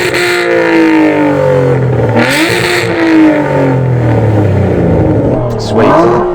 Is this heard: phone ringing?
no